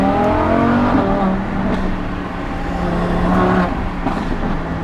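Lamborghini Huracan V10 engine revving hard under acceleration, loud rising and falling snarl with gear-change dips, heard from inside the car, with no talking over it.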